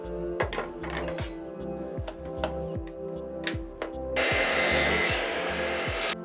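A small wooden wedge being cut to size with a hand saw for a wedding-gift picture frame box, rhythmic back-and-forth rasping strokes up close, then a brighter, denser continuous grinding burst toward the end.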